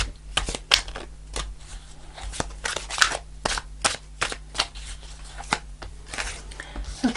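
Tarot cards being shuffled and a card pulled, heard as a run of sharp, close paper snaps and riffles at an irregular rhythm, with no talking.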